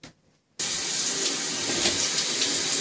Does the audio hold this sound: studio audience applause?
no